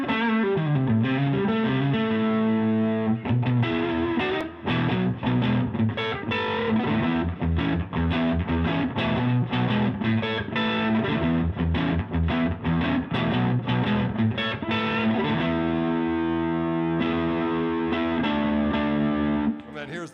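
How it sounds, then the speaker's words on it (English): A driven electric guitar is played live in the Orange Room through a delay pedal set for a short trail, with loud, continuous, busy phrases and chords whose echoes tail off quickly. "I like to set that delay so it's just got a little bit of a trail."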